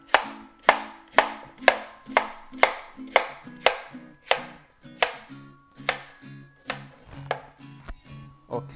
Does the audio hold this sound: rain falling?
no